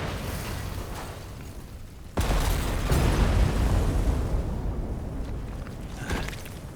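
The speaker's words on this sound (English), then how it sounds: "Oh, it's stun grenades" A stun grenade blast in the video game Metal Gear Solid Delta: Snake Eater lands as a sudden loud burst, followed by a sustained roaring wash of noise that slowly fades.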